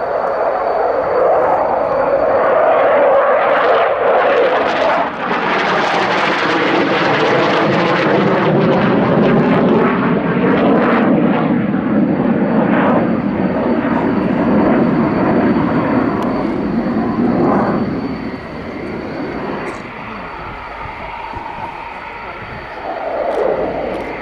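A MiG-29 Fulcrum jet fighter flies a display at the Royal International Air Tattoo 2015, its loud engine roar rising and sweeping past before fading, with commentators talking over it.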